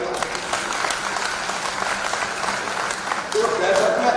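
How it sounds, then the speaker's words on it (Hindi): Applause from the audience at a BJP women's wing state working committee meeting in Madhya Pradesh, steady sustained clapping throughout that swells louder near the end. "महिला मोर्चे के जोर से ताली बजाओ।"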